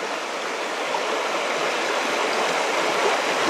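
Steady rushing and gurgling of a stream carrying reddish, iron-stained water over iron-rich ground in the Harz mountains near the Brocken, a continuous close, even wash with no voices.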